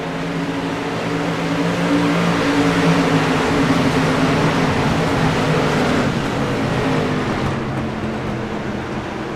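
Several race cars roar past together in the iRacing video game, a Street Stock Series race at Nashville Fairgrounds Speedway, producing a dense, steady engine drone that stays loud throughout and fades slightly near the end.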